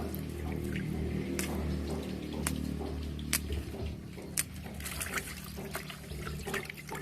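Herb leaves being washed by hand under a running kitchen tap, a steady quiet stream of water with soft splashes and a few sharp drips and clinks, close and faint.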